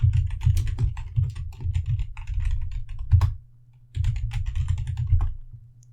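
Quick clicking keystrokes on a computer keyboard as a Linux terminal command is typed, coming in steady rhythmic bursts that break for a brief pause before a final run of keys.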